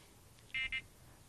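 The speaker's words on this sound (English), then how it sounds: "Did you hear the clip? The beep?" Two short, high-pitched electronic beeps in quick succession from a small device, clear against a quiet background.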